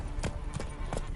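Hooves of Roach, Geralt's horse in The Witcher 3, clip-clop in a steady moving gait, three clear strikes over about a second, close and fairly loud, with faint voice in the background.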